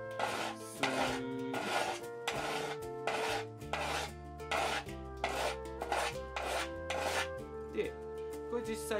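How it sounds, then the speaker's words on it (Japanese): A file rasps along a snowboard's steel edge in steady strokes, about a dozen close, loud scrapes in a regular rhythm over a constant tonal background hum. "で軽くこういう風に撫でながら削っていきます"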